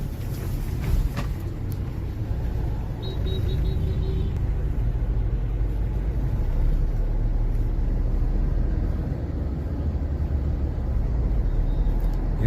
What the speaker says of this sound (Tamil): மும்பை டிராஃபிக் பாருங்கள்